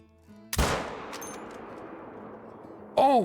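A single sharp, loud rifle shot at a giant ram in the hunting game Call of the Wild, ringing out into a long fading echo across open terrain, then a short tonal game sound.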